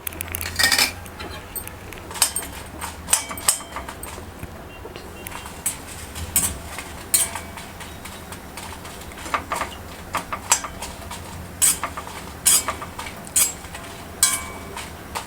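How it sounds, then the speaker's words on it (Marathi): Dry red chillies roasting in a pan over a gas flame, with frequent light metallic clinks and scrapes of stirring against the pan over a low background hiss. "त्यात आता आपण ह्या सुक्या मिरच्या आहेत त्या आधी भाजून घेऊया"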